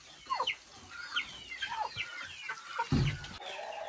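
Chickens being caught to take and sell at a market, clucking and squawking in repeated short calls close by, with a louder flurry of flapping or scuffling near the end.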